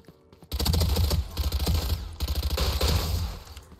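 Rapid automatic gunfire from a rifle in the video game VALORANT, fired while the player sprints, bursts in a dense steady rhythm with a brief pause midway, loud and close with no talking.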